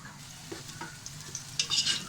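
Onions with salt sautéing in a pan, a low sizzle with a few soft stirring scrapes and a brief louder hiss near the end, close and quiet with no voice.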